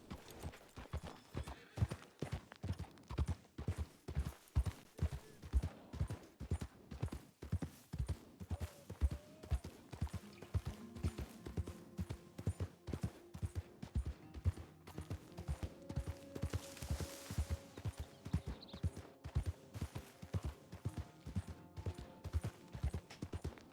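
Horse hooves clip-clop steadily and rhythmically throughout in Red Dead Redemption 2 Online on PC, a continuous close trotting gait with no talk.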